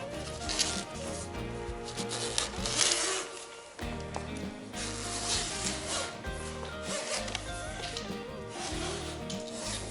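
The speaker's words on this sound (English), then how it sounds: "you just simply do the zipper up as you go along" A zipper is pulled closed along the fabric cover of an 8 ft curved trade show display frame, giving a steady rasping run of rubbing zip sounds with short pauses, close and alone.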